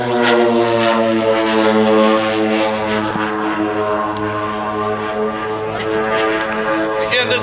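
A radio-controlled model B-29 bomber flies at the Joe Nall 2014 airshow, its multiple engines giving a steady, droning hum with a strong buzzing tone, loud and sustained, as a commentator talks over it.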